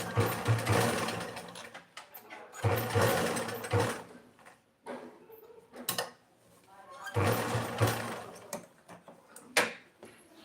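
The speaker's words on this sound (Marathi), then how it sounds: "ही बघा याला दाबटीप मारून घेऊ हे" An electric sewing machine stitching a garment sleeve runs in bursts of rapid, steady mechanical whirring, close and clear, with short pauses between runs and brief handling clicks.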